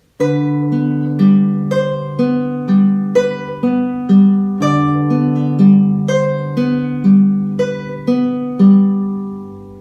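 Plucked guitar notes ring out in a steady, repeating fingerpicked triplet pattern from Romance d'Amour, clear and close, with no voices.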